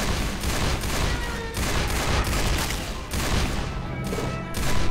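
Rapid bursts of Magnum pistol fire in a zombie shooter game, repeated loud cracking shots in clusters across the whole stretch, no talk over them.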